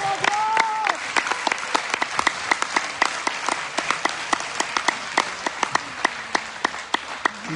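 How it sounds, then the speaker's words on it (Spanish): A church congregation claps in praise during a sermon, a steady rhythm of sharp, distinct hand claps close by that keeps an even beat throughout, with a brief voice near the start. "Dele palmas al Señor"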